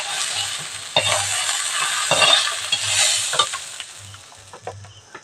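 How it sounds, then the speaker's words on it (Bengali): Bata fish frying lightly in oil in a pan, a steady soft sizzle with occasional stirring scrapes and clicks, alone without talk. "বাটা মাছটা প্রথমে হালকা করে ভেজে নেবো বেশি ভাজবো না"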